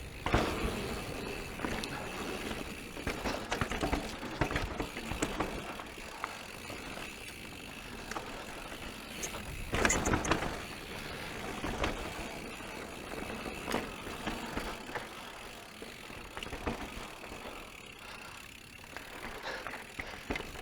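A 2020 Scott Gambler 920 alloy mountain bike with over-inflated tyres bounces over roots on a trail. A continuous low rumble carries frequent rattles and knocks, fairly faint, with no talking.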